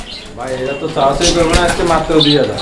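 Pigeons at a pigeon farm cooing close by, soft throaty calls mixed in with people talking loudly over them.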